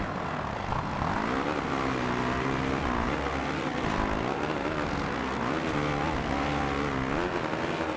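A Honda motocross bike races in MXGP 2, its engine droning and revving continuously and loudly, with no breaks.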